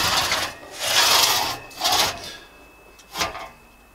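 A crosscut saw cutting through wood, giving three raspy strokes that swell and fade, the last one shorter, heard up close with no talking.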